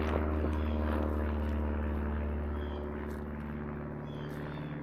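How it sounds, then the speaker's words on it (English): A steady, moderately loud engine drone of an airplane passing overhead outdoors, slowly fading over a few seconds. "Yeah, there was a plane."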